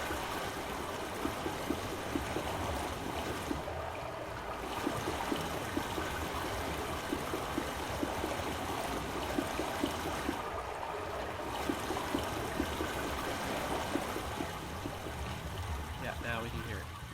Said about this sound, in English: Now we can hear it going through the pipes.